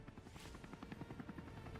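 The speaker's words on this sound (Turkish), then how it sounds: "Helikopter şu anda bir dağın yamacında asılı duruyor." A helicopter hovering on a mountainside makes a steady, rapid rotor thumping with a constant engine roar throughout, at moderate loudness and with no talking.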